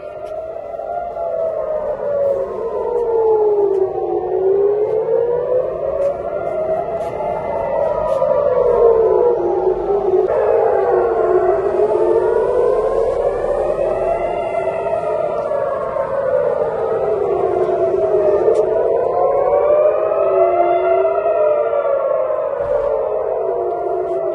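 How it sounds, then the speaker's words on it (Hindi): A civil defense air raid siren in Tel Aviv, Israel, during missile attacks wails continuously, its pitch sweeping up and down in slow, repeating cycles, loud and steady throughout with no talking. "लगातार सायरन बज रही है, मैं टेल अवीव में हूं"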